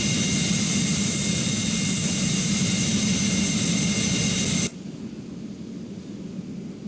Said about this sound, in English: we are going to witness the power of just 3 B-52 Stratofortresses